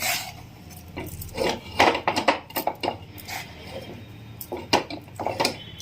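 Chalividi rice flour dough being mixed by hand in a vessel for Karthika Pournami, with irregular scraping, rubbing and clinking against the pot in close, uneven bursts and no talk.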